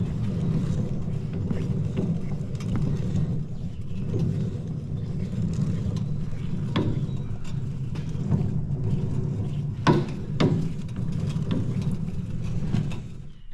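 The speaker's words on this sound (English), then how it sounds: "if I spin this PTO shaft, you can kind of see everything working there" Restored Vicon fertilizer spreader mechanism turning as its PTO shaft is spun, a low steady rumble with a few sharper mechanical clunks near the end, close and without talk.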